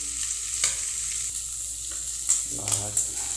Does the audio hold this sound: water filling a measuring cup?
no